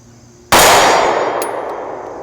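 A single bullet strikes a steel buffalo-shaped shooting target far downrange, giving a sharp metallic clang that rings and slowly fades over about two seconds.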